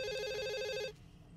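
A telephone bell rings with a steady electronic warble for nearly a second and then cuts off, leaving faint room hiss.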